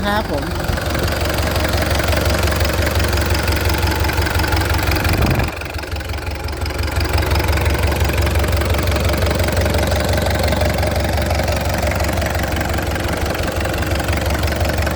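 A Cat 306 excavator's heavy diesel engine idles with a steady, knocking rumble, briefly dipping before settling back into its even throb.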